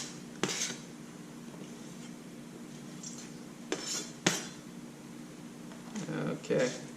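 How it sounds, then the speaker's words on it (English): Chopped African pompano being mixed with jalapeno in a bowl, a few sharp utensil clinks and scrapes spaced apart, with a person talking throughout. "And mix that with my jalapeno."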